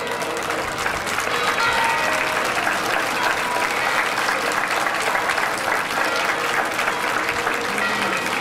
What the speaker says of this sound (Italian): Un bel battimani soprattutto per chi guida la barca.